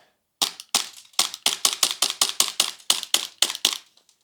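A Tokyo Marui airsoft Glock pistol fires about a dozen sharp, snappy shots in quick, slightly uneven succession, close and crisp, with brief quiet gaps between them.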